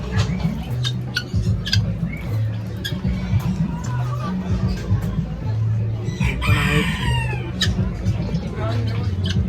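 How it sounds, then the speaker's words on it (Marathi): Red Polish cap chickens cluck and crow repeatedly amid a busy flock, with short clucks recurring throughout and a voice briefly audible in the background. "सेम इंडियन कोंबडी वाटते, पण ही रेड पॉलिश कॅप आहे"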